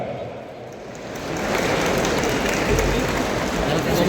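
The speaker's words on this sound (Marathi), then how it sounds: "जोरदार टाळ्या।" Loud, sustained applause from a crowd welcoming the Chief Minister Eknath Shinde at a Dharmaveer 2 film event, a dense clapping wash that swells and holds steady throughout.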